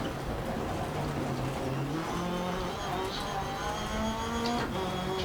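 Racing video game car on a Thrustmaster T-LCM load cell pedal setup, engine droning and rising in pitch in steady gear-like steps as it heads into a jump, faint and continuous with no talking.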